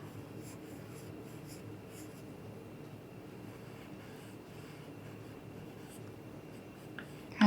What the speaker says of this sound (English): I'm going to draw a ribbon onto this one.